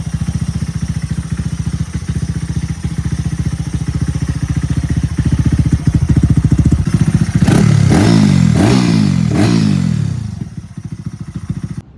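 A motorcycle fitted with an Over Racing exhaust with the baffle in idles with a loud, close, lumpy thump, then revs in three quick rising blips before settling back to idle.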